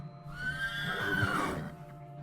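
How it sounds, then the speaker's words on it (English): Horse neighing in a survival video game, a single clear whinny rising and trailing off over about a second, close and prominent with faint background hum. "these horse sounds are absolutely egregiously annoying"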